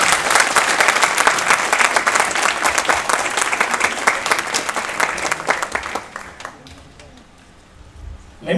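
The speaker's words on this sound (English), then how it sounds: "Deserves another round of applause." Loud, dense applause from an audience after a saxophone and flute recital fills the space, steady clapping that gradually thins and fades toward the end.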